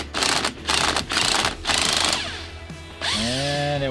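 Air impact wrench hammering at the 14mm flywheel nut of a 212cc small engine, four rapid loud rattling bursts followed by a whirring tool spinning freely near the end.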